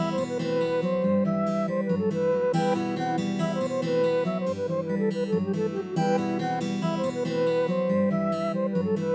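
Intro instrument parts transposed down in Studio One play back as a layered musical passage, with sustained pitched tones and rhythmic chord changes at a steady moderate level and no talking.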